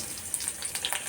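Cumin seeds spit and crackle in two spoons of hot oil for a tempering, a faint, brief patter of small pops over a soft sizzle.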